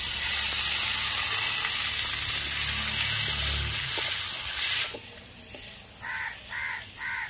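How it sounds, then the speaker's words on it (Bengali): Fried brinjal tipped into a pan of sizzling potatoes, a loud dense sizzle for about five seconds that drops away sharply, leaving quieter stirring and a few birdlike calls in the background. "এবারে ভেজে রাখা বেগুন দিয়ে দেব। ভেজে রাখা বেগুনগুলি দিয়ে দিচ্ছি।"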